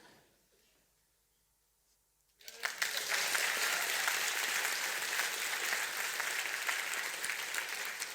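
Audience applause bursts in after a quiet pause and holds as a loud, steady wash of clapping from a crowd at a live podcast show.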